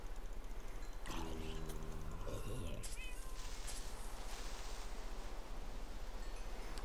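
Cat meowing in the video game Minecraft: a couple of short game-cat meows near the start, over a steady background hum, with a person talking quietly.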